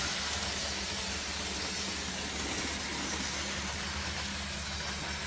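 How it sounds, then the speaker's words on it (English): An old-school Hornby Class 47 model locomotive runs with a continuous, steady motor whine and buzz, held at an even level throughout without any pauses, recorded close up. "That little whine in the motor, that always gets me"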